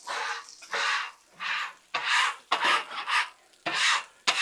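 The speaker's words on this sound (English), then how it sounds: "what I'm gonna do first is get what I can off with the scraper" A metal scraper rasps across a Blackstone griddle to lift cooked-on residue, about seven or eight rhythmic scraping strokes up close, each a short gritty burst with brief gaps.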